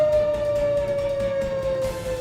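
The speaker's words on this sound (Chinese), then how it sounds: "你可能就会听到这些警报响起的声音，" A tsunami warning siren on the east coast of Sabah sounds as one long, steady wailing tone with a slight downward drift in pitch. It carries loudly over a low background rumble.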